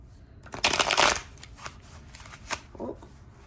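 A Tarot de Marseille deck is shuffled by hand close up, a burst of dense riffling followed by several lighter card flicks and slides.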